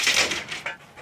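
A dog whimpering in an animal shelter, a short run of high, thin whining cries close by, fading out within a second.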